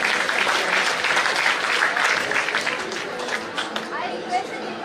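Applause from the audience at a student merit award ceremony as honorees come up on stage, a dense, steady clapping with crowd chatter mixed in, close and fairly loud.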